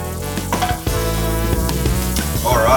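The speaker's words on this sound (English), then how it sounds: "so that's sizzled a little bit" Rawon spice paste sizzles steadily in a frying pan, a dense close hiss with a few stirring scrapes and a brief clink near the end.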